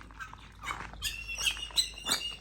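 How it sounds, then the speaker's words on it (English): Small birds in an aviary chirping and squawking in short bright calls, several voices overlapping at moderate distance, in bursts roughly every half second. "Definitely chirping away."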